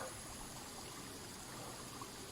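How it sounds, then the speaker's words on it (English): A small mountain stream and mini waterfall in Madeira trickle and splash in a steady, close, even wash of running water with no voices. "little stream here, a mini waterfall behind me"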